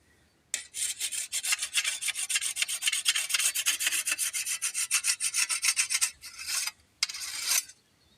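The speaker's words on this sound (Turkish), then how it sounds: "Çayır biçiyorum çayır. Çayır biçiyorum bak." A hand scythe cuts meadow grass in a village field, giving a steady run of close, dense rasping swishes that stop briefly near the end and then resume for a short final burst.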